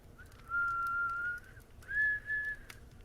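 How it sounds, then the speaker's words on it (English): An eerie whistled tune plays in a scary story, with one long sustained note followed by two shorter ones, thin and clear over a quiet background. "we heard the whistling."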